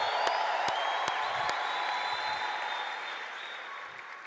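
A church congregation applauds and cheers steadily throughout, a dense wash of clapping with sharp whoops and whistles rising above it, loud and close, fading slightly toward the end.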